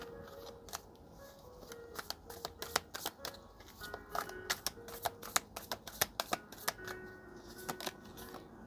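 Oracle cards are shuffled by hand in a steady run of crisp, papery flicks and riffles, fairly close and moderately quiet, with no talking over it.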